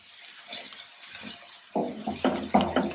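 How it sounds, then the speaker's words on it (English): Garlic is stirred around in a cooking pot, giving soft scraping and clinking that grows louder and more rhythmic in the second half, with no talking. "let's go ahead and stir this garlic around"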